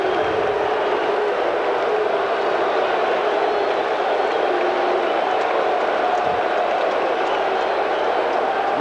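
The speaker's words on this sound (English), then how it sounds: "this crowd going wild" A packed baseball stadium crowd goes wild during World Series Game 6 in 1986, a continuous roar of cheering voices that fills the whole stretch evenly and never drops away.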